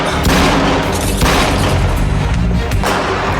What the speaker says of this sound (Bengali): গুলির শব্দ ওদিক থেকে আসছে।